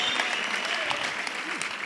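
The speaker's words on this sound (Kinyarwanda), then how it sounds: "Amashyi ladies and gentlemen." A crowd at a Rwandan comedy show in Nairobi keeps up loud, steady applause with dense clapping. Faint whoops and voices rise beneath it.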